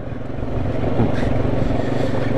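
An ATV engine runs steadily at a high idle, a constant buzzing drone with no change in pitch, close by.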